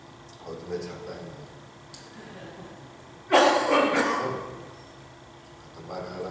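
A single sharp cough bursts out in a church revival sermon setting, preceded by faint soft murmuring and followed by quiet room tone.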